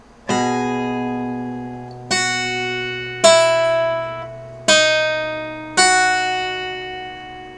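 Guitar slowly picks the One Punch Man sad theme, five separate plucked notes spaced a second or more apart, each ringing out and fading over a sustained open low string, quiet and close with no talking.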